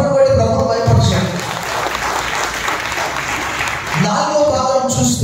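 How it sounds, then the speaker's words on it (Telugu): A church congregation claps loudly and steadily for a few seconds during a Telugu sermon, a dense wash of many hands, with the preacher's voice heard before and after. "బిగ్గరగా చప్పట్లు కొట్టి ప్రభువును భయపరచండి."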